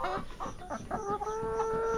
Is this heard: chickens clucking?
yes